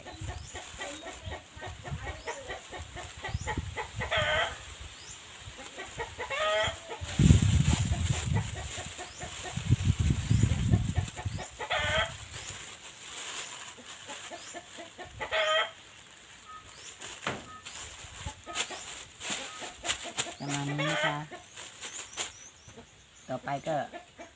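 Chickens cluck in repeated bursts close by on a farm, with occasional rooster calls mixed in and someone talking over them at times.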